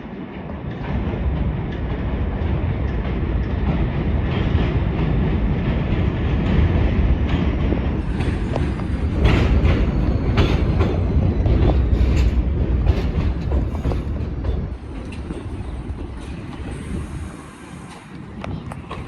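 Subway train running through Buhre Avenue elevated station in the Bronx, a loud sustained rumble with clattering wheels and rail squeals that fades toward the end.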